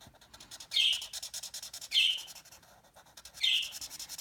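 A pet budgie gives three short, bright chirps, spaced about a second apart, fairly faint indoors over a constant scratchy rustle of colouring.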